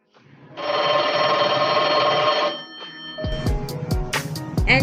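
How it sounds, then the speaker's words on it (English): A telephone rings loudly and continuously for about two seconds, followed by clattering handling noises as the ring fades. "a ringing telephone,"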